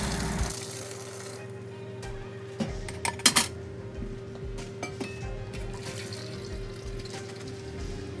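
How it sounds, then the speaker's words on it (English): Hot water drained off cooked elbow macaroni, a steady low pouring wash with a few clanks of a pot or utensils partway through, close and fairly quiet. "So when the elbow macaroni is soft, just drain the water."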